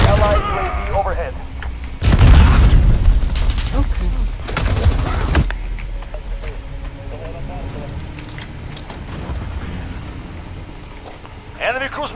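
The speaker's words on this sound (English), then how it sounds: "Enemy cruise missile, take cover!" Cruise missile explosions in the Call of Duty Modern Warfare online multiplayer game: heavy booming blasts and rumbling impacts hit close in bursts, mixed with gunfire, and game voices speak over the action.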